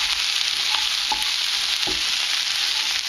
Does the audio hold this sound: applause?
no